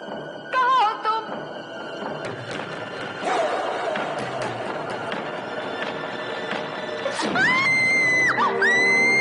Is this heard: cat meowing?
no